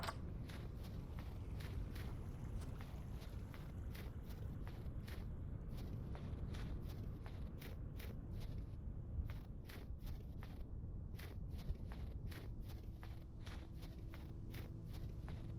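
Footsteps walk steadily in the video game Vintage Story, an even rhythm of crunchy steps over a broad, dense ground texture. No music or talk accompanies them.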